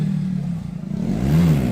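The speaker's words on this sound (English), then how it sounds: "Apologies for the loud motorbikes." A loud motorbike engine revs up nearby on a street in Lincoln, its growl dipping briefly before rising again in pitch.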